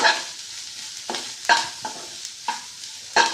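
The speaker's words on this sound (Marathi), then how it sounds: "कांद्याची पात थोडीशी कोथंबीर गॅस मिडियम ठेवा छान असं परतून घ्या" Spring onion greens and coriander with cabbage are sautéed in a pan over medium heat, a sizzling hiss broken by five or six sharp scraping stir strokes at an uneven rhythm, close and alone.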